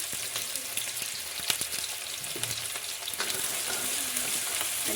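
Chopped onion and green chilli sizzle steadily in hot oil for sarson ka saag, with a dense, continuous crackle broken by sharper pops and occasional stirring scrapes, close and fairly loud throughout with no talking.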